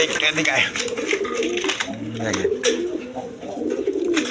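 Several high-flying Afsani Girijal pigeons kept together at a breeding farm coo in low, throaty rolls beneath steady nearby talking, with scuffling and rustling around them.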